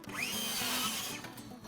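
A handheld power tool cuts wood for a children's DIY rainbow cup holder, a loud, close, steady whine that rises in pitch at the start and holds for under two seconds with no talking.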